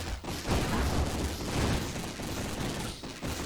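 A ship firing on a boss in the video game Nova Drift: a dense, rapid stream of shots and impacts pouring out continuously, loud and busy throughout with slight swells in intensity.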